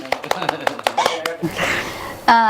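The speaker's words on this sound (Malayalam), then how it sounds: "കൊള്ളാവുന്നുണ്ട്, കൈയടിച്ചു തരാം." A handful of sharp hand claps, about eight quick uneven smacks, close and fairly loud, mixed with a speaking voice and a brief snatch of singing at the end.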